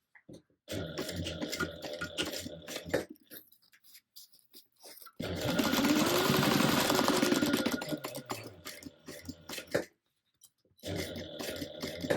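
A sewing machine runs a back stitch and then stitches off the edge of the fabric, two sustained motor bursts separated by pauses, fairly close and steady with no talking over it.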